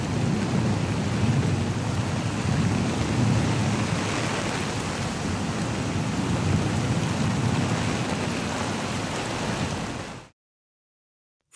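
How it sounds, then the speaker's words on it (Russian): Heavy downpour during a thunderstorm in Novosibirsk, with a steady, loud roar of rain and low thunder rumbling throughout, continuous for about ten seconds before cutting off abruptly. "Вчера Новосибирск накрыл мощный ливень, который вызвал подтопление на ключевых улицах города."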